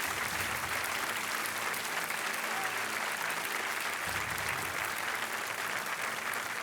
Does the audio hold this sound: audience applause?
yes